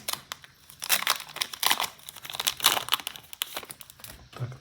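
A 2024 Halloween Pokémon card booster pack crinkles and tears open up close, a run of sharp, irregular foil crackles without speech.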